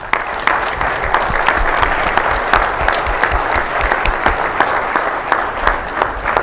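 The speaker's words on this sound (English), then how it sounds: "let's give a big round of applause for all the participants" Audience applauding an award winner at a startup challenge, a dense, steady burst of clapping from a crowd that holds at full strength throughout.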